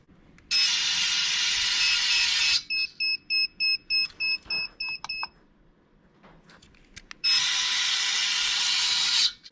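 An electric license plate cover gives a harsh electronic buzz twice, separated by a run of about eight short clicking beeps, with faint mechanical rattles in between.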